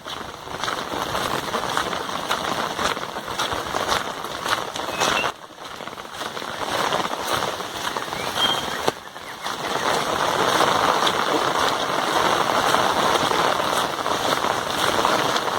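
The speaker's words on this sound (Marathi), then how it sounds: "मित्रांनो, हा आज आता पाऊस आलेला आहे." Heavy rain with hail pounding down in a village, a loud continuous close hiss with brief dips, dense patter throughout.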